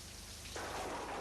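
Rain falls at night as a soft, steady wash of hiss, fairly faint and unbroken, with the patter thickening slightly partway through and no voices present.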